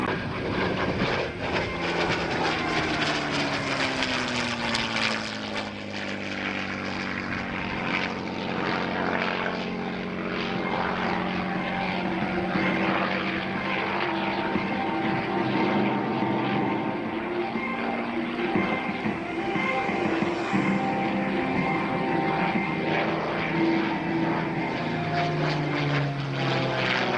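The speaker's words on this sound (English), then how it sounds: "we'll guide you through as we welcome the 51C Mustang" A P-51C Mustang propeller fighter flies at an airshow in Rochester, New York, its engine a loud, continuous drone that shifts pitch as it passes, with no talk.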